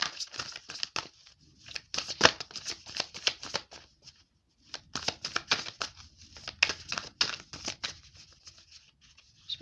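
Tarot cards shuffled by hand in a rapid, irregular flutter of papery riffles and slides, pausing briefly midway before resuming, close and fairly soft with no talking.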